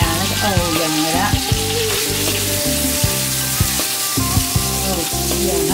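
Quail fry in a pan over low heat, giving a loud, dense, continuous sizzle with occasional pops and a steady hum throughout.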